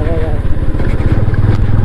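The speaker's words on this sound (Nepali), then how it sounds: "हामी चाहिँ बाइकमा घुमिरहेको छ है" A motorcycle engine runs with a mid-pitched, pulsing putter on an extreme off-road trail to Pumdikot in Nepal, close and fairly loud, with a voice talking over it.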